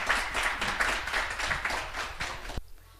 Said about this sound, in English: Another round of applause for Jack and Maxie